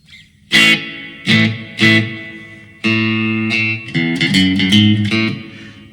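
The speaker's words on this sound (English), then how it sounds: "So I'm going to use the 63 spring reverb." An electric guitar played through a Line 6 POD GO's '63 spring reverb plays a few plucked notes and chords, each blooming into a washy, splashy reverb tail that lingers between strums. No one speaks.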